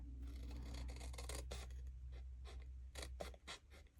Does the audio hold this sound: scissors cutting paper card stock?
yes